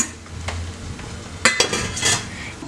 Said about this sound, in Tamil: இப்போ இந்த இட்லி தட்டை இதுக்குள்ளே வச்சிடலாம்.